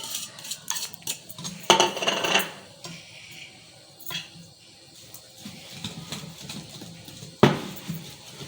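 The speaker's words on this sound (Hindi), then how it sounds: "अब मैं इसको अच्छे से मिक्स करूँगी" A spoon scrapes and clinks irregularly against a bowl while mixing pakora batter with spices and green coriander, bursts of wet stirring and sharp metallic taps separated by short pauses.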